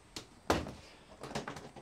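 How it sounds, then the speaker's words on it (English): A plastic storage tub being opened, a sharp knock followed by several softer plastic clacks and rustles, close and brief. "If we open a tub up here and have a bit of a look"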